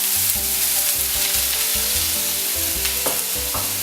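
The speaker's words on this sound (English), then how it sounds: "And we're gonna mix that all up, cook it for about 5 minutes until everything softens." Chopped purple onion, minced garlic and mushrooms sizzle as they are stirred in a pan, a continuous close frying hiss under steady background music.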